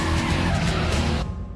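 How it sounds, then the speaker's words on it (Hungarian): Race cars roar at high revs with tires skidding and squealing, a loud, dense blur of engine noise in a TV trailer for a car-theft film featuring fifty cars, which cuts off abruptly near the end. "50 autó, több 100 lóerő."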